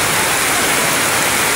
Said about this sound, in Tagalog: grabe talaga ang ulan